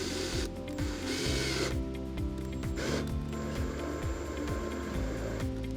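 A machine drill runs steadily with a whirring, rhythmic mechanical grind as it drills and taps metal, close and continuous, no voices.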